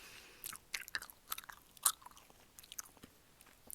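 Close-miked ASMR gum chewing: soft, wet, sticky smacks and clicks in an uneven rhythm, quiet and intimate, with no speech over it.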